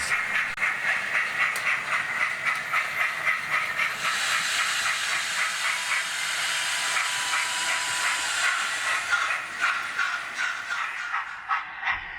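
A steam train pulls away with loud, steady hissing steam and rhythmic chuffing, close by, with no talking.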